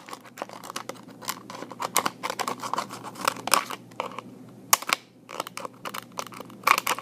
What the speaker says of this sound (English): keep cutting until you have all 9 lines cut